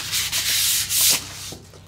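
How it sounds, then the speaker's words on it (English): Sandpaper of 220 grit rubbed by hand over a surface before chalk stenciling, a close, steady scratchy hiss in several back-and-forth strokes with brief pauses, no talking. "we're gonna take our 220 grit sandpaper and I'm gonna give it a little bit"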